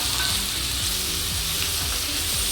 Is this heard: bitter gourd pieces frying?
yes